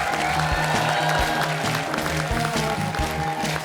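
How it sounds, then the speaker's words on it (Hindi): A studio audience at The Kapil Sharma Show comedy taping claps and applauds loudly and continuously throughout, a dense close wash of hand claps with a faint murmur of voices underneath. "वो हाथ छोड़ के तालियां बजा सकते हैं"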